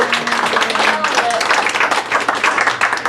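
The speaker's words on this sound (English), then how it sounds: "Give yourselves a big hand." Clapping and cheering from a live audience at a public magic show fill the room steadily and loudly, with voices mixed into the applause.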